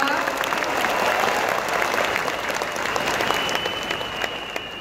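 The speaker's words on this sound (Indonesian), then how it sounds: "Boleh aplaus untuk para guru-guru yang luar biasa" An audience at a government appointment ceremony in the Graha Unesa hall applauds the teachers, giving dense, steady, loud clapping that fills the room throughout.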